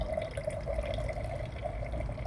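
Hofbrau Oktoberfestbier trickling slowly from a tipped mini keg, a close, continuous liquid pour with faint gurgling and dripping textures throughout, no voices.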